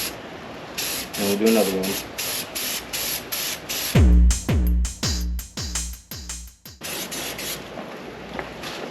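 A spray gun lays paint on a 1982 Honda Goldwing cafe racer in short, loud hissing bursts with a steady, repeated rhythm, along with clicks and low thuds, as someone speaks briefly.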